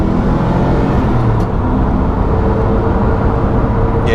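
A Noble M600 supercar under way, its engine and road roar filling the cabin in a loud, steady drone with a gentle rise as it accelerates, with no talking.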